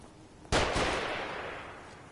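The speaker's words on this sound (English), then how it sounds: "They're shooting." Gunfire erupts in The Evil Within, a sudden loud blast followed by a quick second shot, then a long rumbling decay that trails away with no talking.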